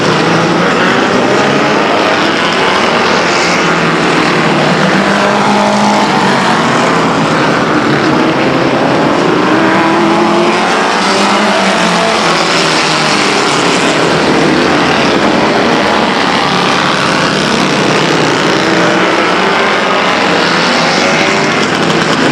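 A vintage race car, a 1948 Curtis chassis with an Offenhauser 110 engine, runs on a speedway, its engine a loud continuous droning roar with shifting pitch, heard steadily throughout.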